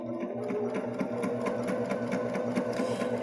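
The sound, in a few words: Baby Lock Jazz II sewing machine stitching buttonhole bar tack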